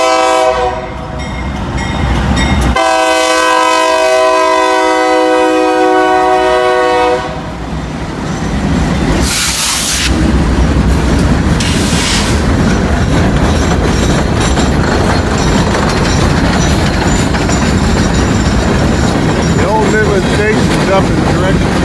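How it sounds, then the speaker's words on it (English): I&O locomotives pass close and loud, opening with a sustained horn blast, then a rumbling engine roar and rolling rail noise that continue throughout, with a person talking over it. "They're good looking locomotives."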